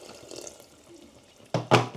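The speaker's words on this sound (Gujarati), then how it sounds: "ગરમ પાણી નાખી દઈએ એટલે થોડુંક" Hot water is poured into a pan of matar paneer gravy, giving two short, close splashing bursts near the end after a quiet stretch of faint kitchen background.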